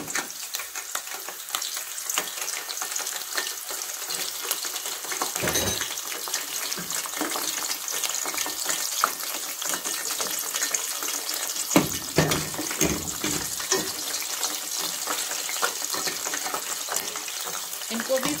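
Capsicum fries in hot oil with a constant loud sizzle and crackle throughout, punctuated by occasional stirring scrapes, for Sindhi kadhi.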